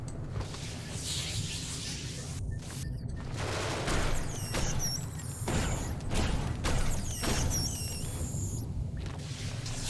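Automated turret firing at spiders in Genesis Alpha One, rattling bursts of shots mixed with mechanical clanks and creature screeches, moderately loud amid busy game noise, with a voice speaking briefly.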